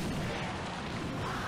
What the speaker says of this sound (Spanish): La explosión me lo mata.